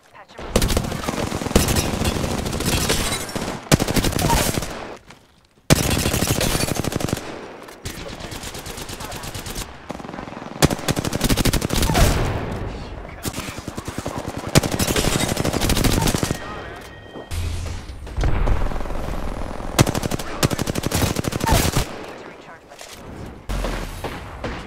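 Loud bursts of automatic gunfire and explosive blasts from an Apex Legends match, a grenade among them, come in dense volleys with brief gaps and a player talking in between.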